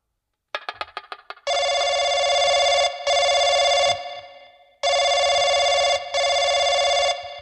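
Telephone ringing on a call to a police station: a few quick rattling chimes, then long sustained electronic rings in two pairs with short gaps between them, clear and alone.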